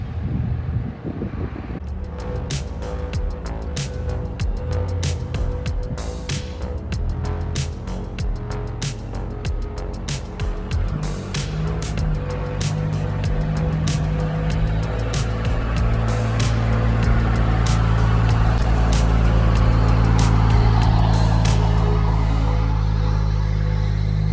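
An old RV drives along the road, its engine and road rumble steady and close throughout, with wind and rattling vehicle noise, the drone growing somewhat louder and heavier in the second half.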